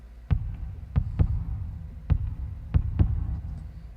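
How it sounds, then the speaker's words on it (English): A deep, bassy heartbeat effect from an indie song mix thumps in irregular pairs of soft beats over a low hum, fairly quiet and with no voices. "Cool, and that heartbeat thing that Sam wanted to be quite bassy, but it's not coming through."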